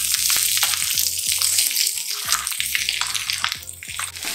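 Onions hit hot oil with cumin and ginger and crackle loudly, a dense sizzle broken by repeated clattering taps as the pan is worked.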